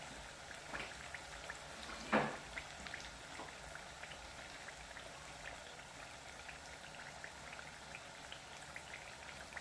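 Sweet potato pieces frying fully submerged in hot oil give a steady, faint, fine crackle and bubbling, with one brief sharper clatter early on.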